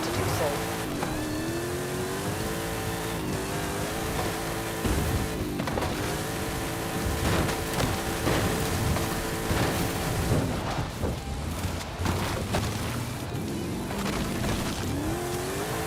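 Old Porsche driving in the Forza Horizon 5 racing game, its engine droning and shifting steadily throughout over continuous game music and effects, with a voice talking over it.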